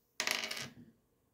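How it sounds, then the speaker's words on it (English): A single die is rolled, giving a sharp clatter that bounces for about half a second and then tails off into quiet. "We're going to roll the dice right now."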